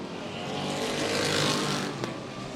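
Racing pickup trucks pass by on a Florida race track, their engines roaring as they swell to a loud peak and then fade away, with no voices over them.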